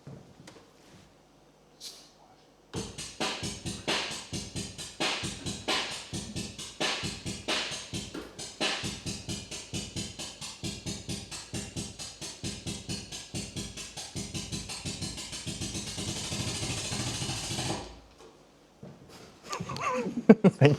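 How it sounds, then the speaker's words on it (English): Korg Donca-Matic rhythm machine from 1963 plays a steady electronic drum pattern of crisp ticks and thumps for about fifteen seconds, fairly loud and alone, stopping abruptly near the end. "That was the sound of the Doncamatic."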